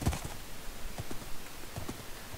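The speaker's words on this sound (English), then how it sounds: "I have a skeleton horse now." Skeleton horse hooves clip-clop in Minecraft, soft, irregular hoof taps spaced across a couple of seconds over a steady noisy background, fairly quiet and close, with no talking.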